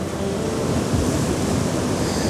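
Sea waves washing in between rocks on a beach as the tide comes in, a loud continuous rushing surf with wind noise over the microphone.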